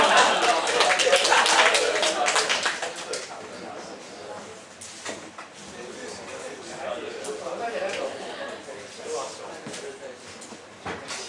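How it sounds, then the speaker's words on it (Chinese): A high school library book club audience breaks into a burst of dense, close applause that fades over a few seconds, then gives way to a voice talking with scattered light taps. "掌声鼓励一下啊"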